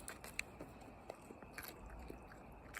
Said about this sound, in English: She likes them because they're so crunchy.